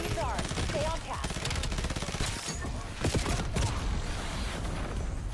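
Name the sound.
gunshots in the video game Call of Duty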